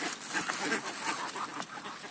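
A duck quacks repeatedly nearby over a busy outdoor background, with faint voices mixed in.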